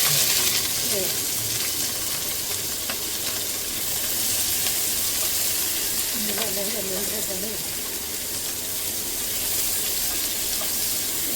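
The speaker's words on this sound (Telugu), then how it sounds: "బాగా ఫ్రై అవ్వాలి, కొంచెం గోల్డెన్ బ్రౌన్కి రావాలి" Green chilies and onions fry in hot oil in a pan, giving a steady, moderately loud sizzle that runs throughout, with faint scraping now and then and a few soft voiced murmurs.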